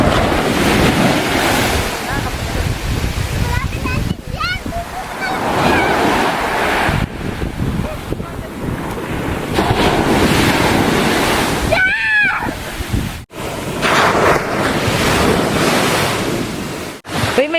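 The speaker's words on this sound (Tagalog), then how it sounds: "ang lakas ng alon." Strong surf crashes continuously onto a beach in Palawan, with heavy wind buffeting the microphone throughout, loud and close, broken only by brief dips.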